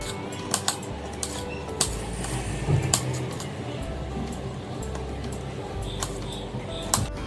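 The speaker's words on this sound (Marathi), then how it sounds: "काकडी आपण कट करून घेणार आहोत छोटे छोटे उभे तुकडे करायचे स्क्वेअरमध्ये" Knife chopping a peeled cucumber into small square pieces on a board: a series of crisp, irregular taps and clicks at moderate distance over a low steady room hum.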